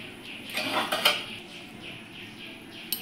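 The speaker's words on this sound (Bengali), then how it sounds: "এবার আমি ঢাকনাটা তুলে নিচ্ছি।" A lid comes off a pot of vegetarian matar paneer with a few faint, quick metallic clinks, then near-quiet kitchen background.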